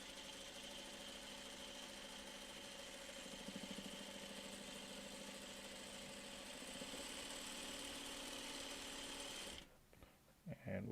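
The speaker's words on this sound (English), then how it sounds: "we'll sew off on a piece of scrap" Sewing machine running steadily while stitching a piece of scrap fabric, a continuous mechanical whir with a fast even stitch rhythm that stops abruptly near the end, followed by a few small clicks.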